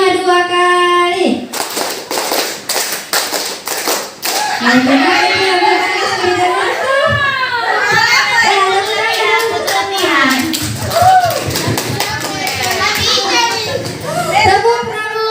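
Children in a classroom chant and clap out the rhythmic 'tepuk 5' pattern, with sharp hand claps in short bursts mixed with excited kids' voices, close and loud throughout.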